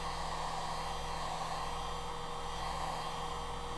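Heat gun blowing a steady hot-air roar while shrinking heat-shrink tubing over wires, constant and close throughout with no speech.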